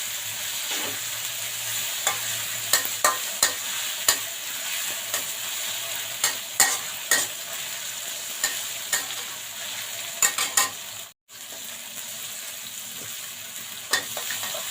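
Pork is stir-fried with fragrant curry paste in a hot pan for a bamboo-shoot dish, giving a constant sizzle broken by repeated scraping clicks of a spatula against the pan.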